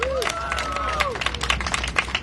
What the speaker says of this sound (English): Give him a round of applause for bringing the gigantic sign.